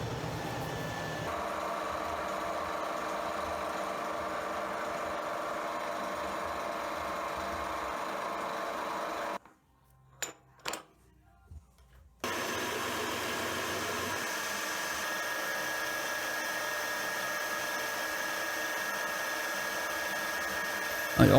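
A cheap, brand-new end mill cuts a small keyway in a metal part in a compact home workshop, giving a steady whirring, grinding machine noise that drops to near silence for a few seconds midway and then resumes.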